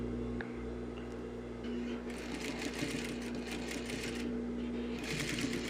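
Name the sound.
sewing machine stitching a trouser zipper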